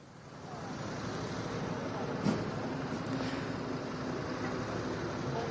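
Heavy vehicles of a presidential motorcade roll into an arena's back parking lot, a continuous broad engine rumble with a brief hiss near the middle, heard from a short distance.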